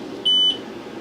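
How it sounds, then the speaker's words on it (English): An xTool S1 40W enclosed laser engraver gives one short, clean, high-pitched electronic beep lasting about a quarter second over a quiet room hum, close by and alone. "As I mentioned before, it beeps."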